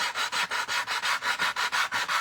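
Rhythmic back-and-forth rasping of sandpaper on the edges of a wooden piece, about a dozen even strokes in quick succession, close and loud.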